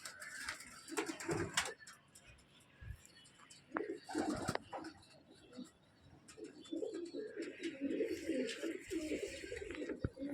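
Giribaz pigeons in a loft, soft repeated cooing rising and falling across the clip, mixed with flutters, knocks and occasional other bird sounds at moderate distance.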